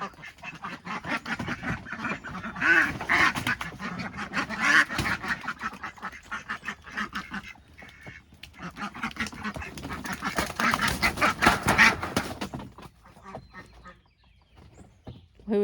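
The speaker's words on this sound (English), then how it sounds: "The rest of the ducks are in there." Several ducks quack repeatedly at close range, including a male among them, in rough overlapping bursts and calls that rise and fall in loudness throughout, with a voice faintly present at moments.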